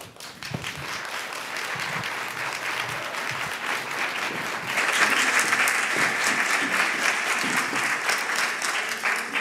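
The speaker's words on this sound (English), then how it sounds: "Can you give her another round of applause?" An audience at a talk on women and children behind bars breaks into sustained applause, a dense wash of clapping that swells louder halfway through and carries on to the end.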